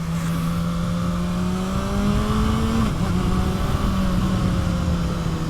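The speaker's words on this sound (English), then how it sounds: "Oh, there's a car coming" Car approaching on a winding rural road with sharp turns, a steady engine drone rising slightly in pitch, heard from a rider's position over continuous road and wind noise.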